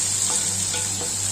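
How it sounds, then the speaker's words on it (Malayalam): Hot tempering poured into cucumber kichadi sizzles loudly and close, a bright continuous hiss with a few crackles over a steady low hum. "ഇനി ഈ ചേരുവകൾ വെള്ളരിക്ക കിച്ചടിയിലേക്ക് അങ്ങ് ഒഴിക്കും."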